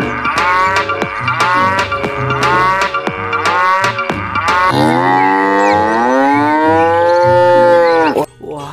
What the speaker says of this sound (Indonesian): ini hewan sapi